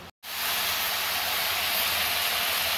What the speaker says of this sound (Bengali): মশলাটা কষিয়ে নিই।